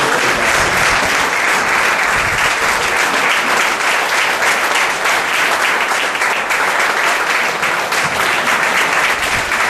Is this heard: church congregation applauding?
yes